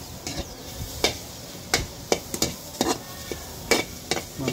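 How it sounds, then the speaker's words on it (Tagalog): Pork adobo sautéing in a pan as its fat renders, heard as a steady sizzle with repeated stirring scrapes and clinks of a utensil against the pan at an irregular pace. "sasangkot siya muna natin ito hanggang magmantika"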